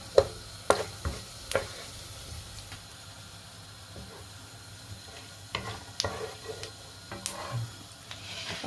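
Spices hitting hot oil for potato pulao give a hissing sizzle with sharp crackling bursts near the start and again toward the end, quieter spluttering between, close and without talk.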